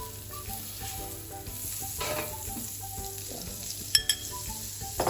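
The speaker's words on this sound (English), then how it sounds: "And I'm going to add some butter." Butter melts in a hot pan on a gas stove while doner kebab meat is being prepared, hissing with a soft steady sizzle and a few faint metallic clinks, close and quiet with no talking.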